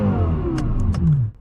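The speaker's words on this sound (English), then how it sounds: "let's take a listen to that engine a little bit more" A Lexus LFA V10 engine revs in neutral, a rich rising and falling engine tone held close and loud for about a second before dropping away, with a few faint clicks over it.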